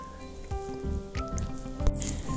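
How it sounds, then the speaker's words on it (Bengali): Water is splashed across a veranda floor and scrubbed with a broom, giving wet swishing and slapping strokes at close range in irregular bursts, with drips and splashes between them. "তো এখন বারান্দাটা জল দিয়ে ধুয়ে নিচ্ছি"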